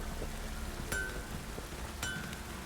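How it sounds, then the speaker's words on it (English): Steady rain hisses throughout in the video game The Witcher 3: Wild Hunt, with two brief bright metallic pings about a second apart. "Looks like rain."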